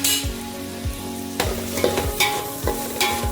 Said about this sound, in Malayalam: ഇങ്ങനെ നല്ലോണം മിക്സ് ചെയ്ത് കൊടുക്കുക.